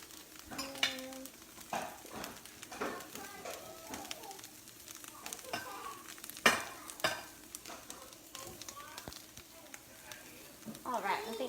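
Asparagus spears sizzle steadily on a grill as more are set down, with metallic tong clicks, bird calls in the background and a person talking over it.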